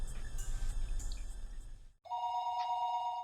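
A telephone rings with a steady electronic ringback tone after a short burst of background game music and noise, sounding clear and close on its own.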